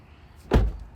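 A single solid thump of a car door shutting on a 2019 Honda Accord Sport, close by and brief, with a faint secondary click shortly after in a quiet garage.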